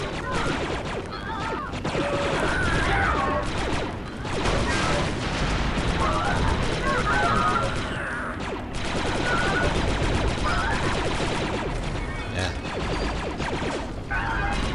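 Sustained gunfire in the Republic Commando shooter, with dense rapid blaster-like bursts and crashing battle noise running continuously and loud, while voices talk over it.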